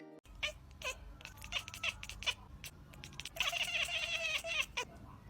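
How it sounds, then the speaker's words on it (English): A cat chatters at a bird, making rapid, clicking chirps and short chattering bursts, then a longer stuttering trill, close by and fairly quiet. "a cat chattering away at a bird outside a window"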